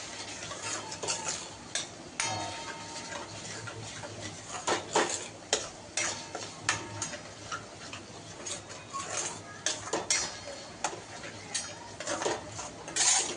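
Paneer masala roasting in a pan for a mushroom dish, stirred with repeated scraping clinks of a spoon against the pan over a faint steady sizzle, close and moderately loud throughout.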